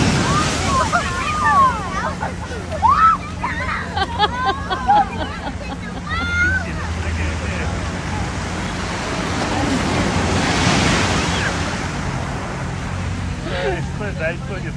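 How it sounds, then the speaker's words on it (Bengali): Pacific Ocean waves break and wash continuously along a beach in America, with steady surf and wind buffeting the microphone; voices and some chirping sounds come through early on. "খুব সুন্দর হাওয়াও দিচ্ছে আর লাগছে অসম্ভব ভালো এই ঢেউয়ের আওয়াজটা।"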